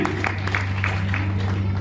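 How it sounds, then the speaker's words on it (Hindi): A seminar audience claps in a brief rhythmic burst, evenly spaced claps over a steady electrical hum from the room's sound system. "एक बार जोरदार ताली"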